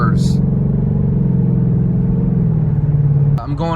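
A 2019 Ford Mustang GT in Orange Fury with the GT Performance Pack idles with a deep, steady V8 rumble close by, holding level for several seconds before the note shifts slightly and a brief higher sound cuts in at the end.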